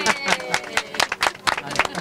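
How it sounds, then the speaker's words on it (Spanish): A small audience at a pottery workshop claps in quick, rhythmic bursts, close and moderately loud, with a few shouts mixed into the clapping. "¡Un aplauso!"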